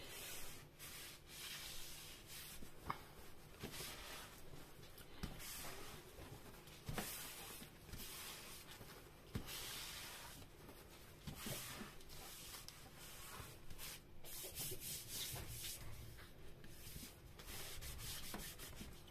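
Paper is rubbed by hand for a Christmas craft album, in repeated close scraping strokes with short pauses and occasional soft taps, without any talking.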